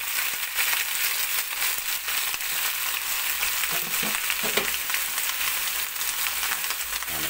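Cabbage and carrots stir-fried with garlic in a pan give off a constant, loud sizzle close by, with faint scraping stirs and crackles now and then and no speech.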